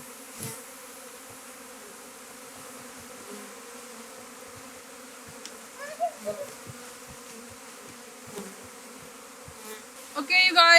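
A steady drone of honey bees buzzing throughout on Hiiumaa in September, with a few louder close passes near the end.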